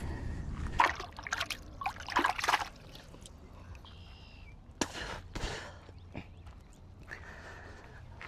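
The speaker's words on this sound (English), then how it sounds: "get some water in my bucket." Lake water is scooped into a bucket at Kirby Lake during panfishing, producing a few close splashes and trickles early on, then quieter intermittent sloshing and dripping.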